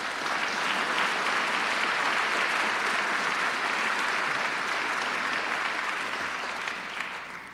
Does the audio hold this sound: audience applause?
yes